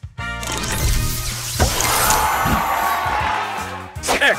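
Spray booster effect from the mobile match-three game Match Masters: a loud, dense hissing burst lasting about four seconds, with a sharp whoosh near the start and a brief flourish at the end.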